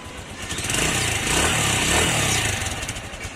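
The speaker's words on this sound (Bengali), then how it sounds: "বাইকটির ইঞ্জিনের সাউন্ড শুনতেছেন আসলে বাইকটির ইঞ্জিনের সাউন্ড একদম নতুন সাউন্ডের মতো" A second-hand TVS Stryker 125 cc motorcycle engine running steadily nearby, a loud continuous rumbling idle with a slight swell in the middle, no talk.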